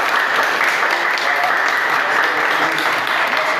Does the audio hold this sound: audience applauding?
yes